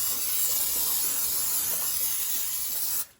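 A steady aerosol hiss of cooking spray greasing a bundt pan, continuous for about three seconds and then stopping.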